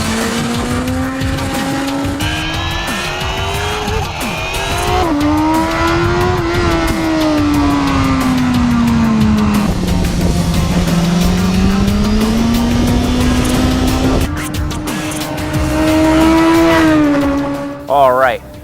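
A BMW S1000RR superbike with an inline-four engine accelerates hard on a race track, its loud, close engine note climbing and dropping in pitch through repeated gear changes and holding a sustained howl throughout.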